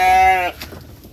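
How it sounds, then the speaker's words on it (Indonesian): A goat on a village farm gives one loud, close, wavering bleat that stops abruptly, followed by faint rustling. "Ini kambing wedus, ini kambing wedus."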